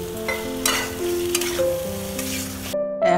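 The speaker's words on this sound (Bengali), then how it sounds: "ওই মশলার মধ্যে ভাজা আলুগুলোকে কষিয়ে নিচ্ছি।" Fried potatoes stirred in a spice paste of salt, turmeric and sugar in a pan, a steady close sizzle with scraping spoon strokes, ending abruptly, no talking.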